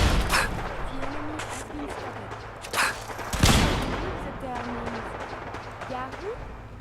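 Scattered gunfire in Fallout 4, with a few sharp reports and one heavier blast midway, set against a busy game soundscape. Someone talks over parts of it.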